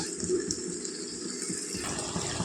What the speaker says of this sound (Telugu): మన ఇందులోకి నీళ్ళు వేసుకుందాం తగినండి మాంసం ఉడికేలాగా